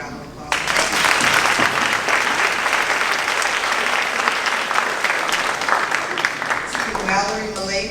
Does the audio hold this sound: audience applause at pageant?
yes